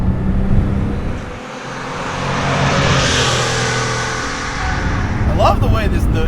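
A 1982 Porsche 930 Turbo Slant Nose accelerates on the road, its engine roaring and swelling in pitch, heard from inside the car; people talk over it.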